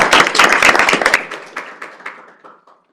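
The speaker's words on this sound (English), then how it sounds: "let's give another round of applause for our speakers" An audience at a law lecture on affirmative action breaks into loud, close applause for the speakers, a burst of many hands that quickly thins to scattered claps and fades out within a few seconds.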